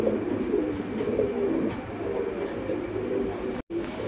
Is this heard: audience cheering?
no